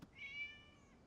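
A cat meows once in the video game Genshin Impact, a single short, clear, rising-then-falling meow, fairly quiet and alone.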